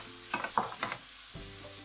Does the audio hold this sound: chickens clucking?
no